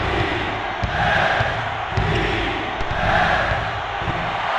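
Roaring arena crowd noise from the PlayStation basketball game NCAA March Madness 2001, a loud, continuous swelling cheer with faint sneaker and ball thumps beneath it.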